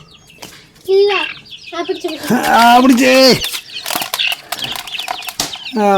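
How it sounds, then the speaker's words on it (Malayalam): Native hens and chicks squawk, cluck and flap as they are caught, with bursts of alarmed calls and wing beats amid people, including a child, talking nearby. "അങ്ങനെ നമ്മൾ എല്ലാ കോഴിക്കുഞ്ഞിനെയും പിടിച്ചു"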